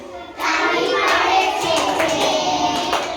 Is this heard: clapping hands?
yes